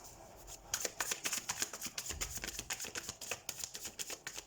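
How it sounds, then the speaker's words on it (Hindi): Tarot cards being drawn and handled from a deck during a card reading, a quick run of soft papery snaps and flicks, close and fairly quiet, with no voice over them. "तो सबसे पहले हम आपके करियर और आपके फाइनेंसेस के लिए कार्ड्स निकालते हैं"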